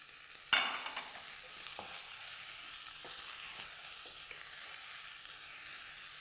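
Baby marrow tipped into a pot of cooking vegetables, a sudden clatter and hiss followed by steady, even sizzling close by.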